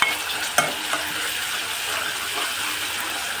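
Turmeric, coriander powder and fenugreek fry in a pan with garlic for fish curry, a steady hiss and sizzle with a few sharp scraping clicks of stirring early on, close and moderately loud.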